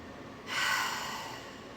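A single deep, slow breath drawn in close to the listener, a soft airy rush that rises suddenly and then tapers off gently, with no speech.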